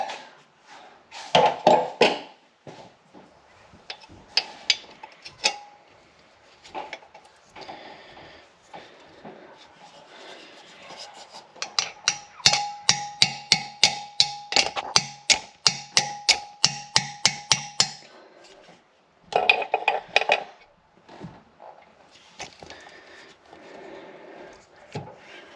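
A wrench clicks and taps rhythmically against bolts while work is done on a Subaru EJ25 engine during removal from a Forester, with bursts of rapid ratcheting and pauses between, close and fairly loud.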